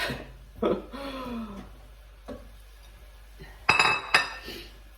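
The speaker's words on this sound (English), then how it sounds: "Just going to add in the sweet potato and the carrots." Pieces of sweet potato and carrot are dropped into a cooking pot in a kitchen, making several scattered clinks and thuds, the loudest pair near the end, with a brief murmur of voice early on.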